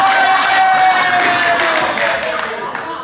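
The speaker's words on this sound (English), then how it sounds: "Only I can get an applause break for fucking up." Comedy club audience breaks into applause and cheering during a stand-up set, a steady wash of clapping that slowly fades, with voices mixed in.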